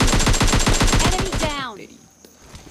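Rapid automatic gunfire rattles in a battle royale video game, a dense burst of evenly spaced shots that stops abruptly, followed by quieter game sounds and a final sharp report.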